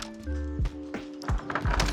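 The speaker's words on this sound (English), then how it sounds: "Normally when you hear people go through doors" In Call of Duty Warzone, a door swings open with several loud wooden thunks and bumps over a quiet game ambience, each hit sharp and close.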